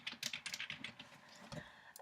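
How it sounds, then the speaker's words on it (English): Quick, irregular clicks of fingers typing on a computer keyboard while an email is composed, close and fairly quiet, with the keystrokes coming in bursts and no voices. "So you then start typing in here."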